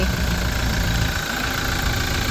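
A used 2019 Toyota Fortuner 2.8 V 4WD TRD diesel engine idles steadily with a low, even hum and faint rattle, no voices, continuous throughout.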